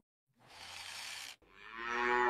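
A cow moos twice in an AI-generated metro train scene, a long nasal low call followed by a second rising one, close and clear with no talking.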